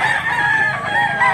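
A big rooster crows loud and close in one sustained, drawn-out call that fills the moment with no talk over it.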